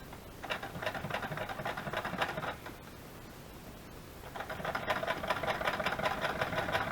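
Sewing machine stitching fabric in two steady, rapid runs, a fast mechanical chatter close up with a short pause between the bursts.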